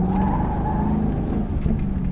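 A B Street Prepped 2001 Corvette brakes hard on an autocross course, engine droning loud and close as tires hiss and faintly squeal through the deceleration, heard from inside the car.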